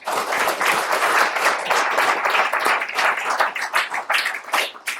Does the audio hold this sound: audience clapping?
yes